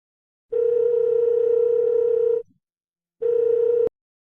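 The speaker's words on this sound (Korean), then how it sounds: "휴대폰을 들고 딸에게 전화를 걸었습니다" A mobile phone's call tone sounds twice, steady and loud: a long, sustained tone, then a short pause and a second, briefer tone that cuts off abruptly. Nobody speaks.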